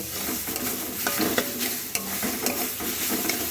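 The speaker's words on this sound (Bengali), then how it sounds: "ঢাকাটা খুলে খুব ভালো করে আবার এর সঙ্গে নাড়াচাড়া করে মিশিয়ে নেব" Papaya cooking in a pan as most of the water dries off, stirred and mixed with a spatula; a dense close sizzle runs throughout with regular scraping strokes against the pan.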